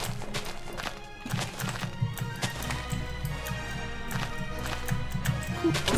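A horse in the Minecraft video game clip-clops in quick, repeated hoof thuds amid game effects, with occasional soft interjections from players.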